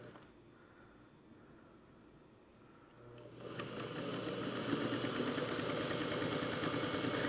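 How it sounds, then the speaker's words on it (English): A sewing machine stitches down a quilt, starting after about three seconds of quiet room tone and then running steadily with a fast, even mechanical whir and rattle that stays close and fairly loud to the end. "And then we'll stitch this down."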